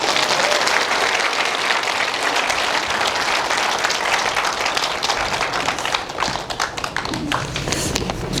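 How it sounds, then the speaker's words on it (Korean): Sustained, dense audience applause at a jazz concert, a steady wash of many hands clapping near and loud for about eight seconds before thinning slightly at the end. "박수 한번 쳐주세요."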